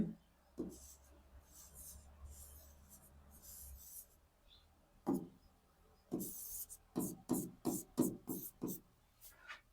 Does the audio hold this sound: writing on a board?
yes